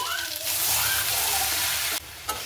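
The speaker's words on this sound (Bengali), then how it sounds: "এবার আমি দিয়ে দিচ্ছি জল।" Water poured into a hot pan of cooked-down potatoes and green figs makes a loud, steady hiss and sizzle that holds for about two seconds, then drops abruptly near the end.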